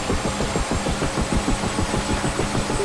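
The turbine engine of a UH-1 Huey helicopter in the DCS flight simulator spins up with a steady, pulsing mechanical drone and rhythmic throbbing, loud and continuous with no talk.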